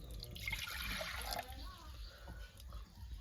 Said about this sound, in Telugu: ఒక గ్లాస్ వాటర్ వేసుకుందాము